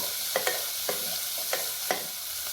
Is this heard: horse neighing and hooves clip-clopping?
no